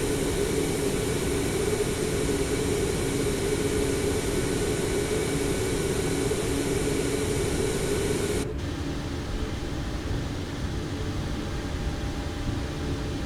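A Boeing 737 MAX 8 jet takes off from Aeroparque, heard from inside the cabin as a steady, loud broadband engine roar and rushing hiss that drops slightly in level partway through.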